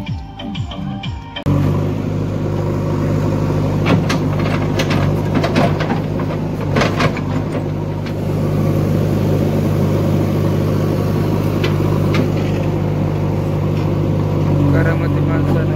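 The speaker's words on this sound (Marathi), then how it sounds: "त्याला ट्रॅक्टर यायला लागलेत." A tractor engine approaches and runs with a steady, loud, mid-pitched droning rumble that fills the scene, with faint background voices underneath.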